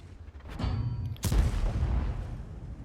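Tank cannon fire in World of Tanks, with a T-32 Tier 8 tank and an IS-3 trading shots: two heavy booms about a second apart, the second louder, over a low rumbling battlefield drone with no speech.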